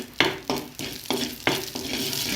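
Chili pieces sizzle in hot oil as they are tempered for a dhal curry, with a steady frying hiss broken by a few scraping stirs of a spoon in the pan.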